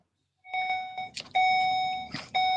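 An electronic alarm sounds in steady high-pitched tones, close and clear, repeating in a short rhythmic pattern broken by a couple of brief bursts of noise.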